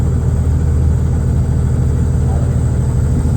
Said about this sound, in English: I can hear a noise down by the, sounds like the side of the engine.